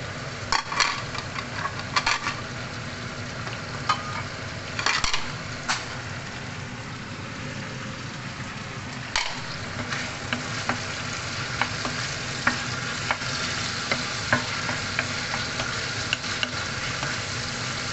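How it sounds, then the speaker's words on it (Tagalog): Garlic and onion fry in a pan with a continuous close hiss and sizzle, punctuated by scattered clicks and scrapes of stirring, with no talking. "Fry natin yung garlic muna. Grabe oh. Ang bilis ayan. Tapos onion."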